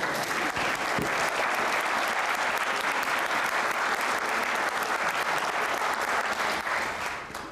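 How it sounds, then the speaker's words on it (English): A room full of people at a Safe Streets community awards event claps heartily and steadily for several seconds, the applause thinning only at the very end. "Let's give Ms. Phillips a round of applause"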